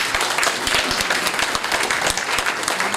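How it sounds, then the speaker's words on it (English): Audience at a regional Hindu women's forum meeting giving a round of applause, a dense patter of many clapping hands with sharper individual claps standing out, steady and fairly loud throughout. "Please, a big round of applause."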